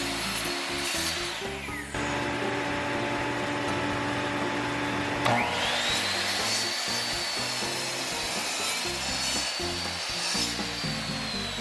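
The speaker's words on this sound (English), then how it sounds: "Mrs. Poorman took over the project and started cutting the wood." Wood being cut for a DIY wall-mounted coat rack with a whining power saw, its motor pitch dipping under load and rising again, loud and close for several seconds.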